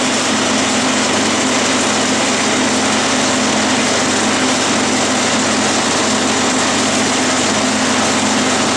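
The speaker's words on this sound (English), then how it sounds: "It's a number 4 center drill, so I always start out by center drilling." A steady machine whir runs throughout with a constant hum and broadband noise, a lathe spinning while a number 4 center drill cuts into metal stock.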